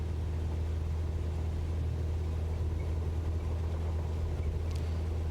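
A light aircraft engine in a flight simulator holds a steady low droning rumble at full power on the takeoff roll, constant and unbroken throughout with no talk.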